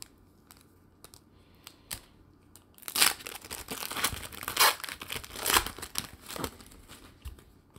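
Trading card packs from a 2020 Panini Chronicles Draft Picks box are torn open up close, with faint crinkling at first, then a burst of loud ripping and crackling foil wrappers.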